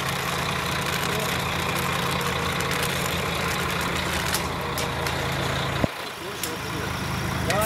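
An O-Train engine idles at Greenboro station in Ottawa, giving a steady loud diesel rumble that fills the clip, with a brief clunk near the end and people talking faintly nearby.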